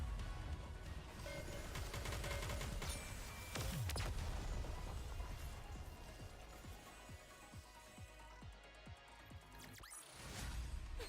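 Gunfire from the mobile shooter game NIKKE, a dense spray of rapid shots under a continuous musical score, with a brief swelling impact near the end and no talking.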